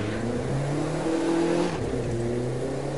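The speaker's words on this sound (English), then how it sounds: "Oh, it's a handbrake turn" A car in the video game The Crew 2 pulling a handbrake turn, its engine droning and revving steadily throughout with a brief rougher shift midway, close and loud.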